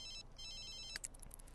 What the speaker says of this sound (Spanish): Contéstame ahorita teléfono.